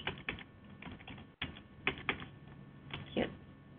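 Keys clatter on a computer keyboard in quick uneven bursts with short pauses, close and fairly quiet, during a software tutorial on searching vendors.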